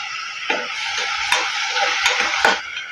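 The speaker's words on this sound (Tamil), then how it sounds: "தக்காளிக்கு தேவையான உப்பு சேர்த்து வதக்கி எடுத்துக்கோங்க" Tomatoes with salt sauté in a pan under a soft, constant sizzle, broken by a few sharp spatula taps and scrapes against the metal.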